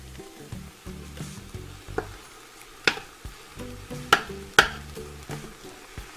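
Ground beef, 1.5 pounds, sizzles in a pan with softened onions for taco 15 bean soup, a low crackling fry punctuated by several sharp spatula clacks and scrapes against the pan.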